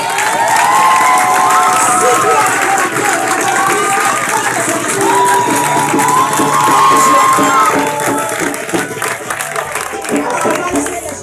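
A crowd at a match between church singers and preachers cheers loudly and continuously, with shouts, whoops and scattered clapping, some high voices standing out, and a lively, sustained roar throughout.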